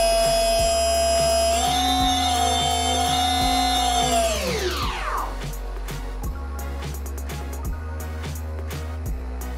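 An X-UAV Talon mini FPV plane's electric motor runs at a steady high whine, then spins down in a falling sweep, leaving a low hum with regular clicks, close and loud.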